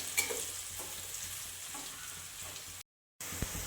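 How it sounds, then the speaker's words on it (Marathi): Finely chopped onion frying on low gas with curry leaves: a soft continuous sizzle with light stirring scrapes, briefly cut to silence before resuming. "बारीक कट कांदा घालून घ्यायचा आहे छान असा लालसर करायचा आहे कांदा कमी गॅसवरच करायचा आहे"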